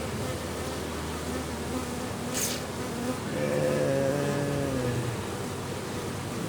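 Honeybees at an open, somewhat weak beehive make a dense, steady buzz throughout, with single bees droning past close by in the second half.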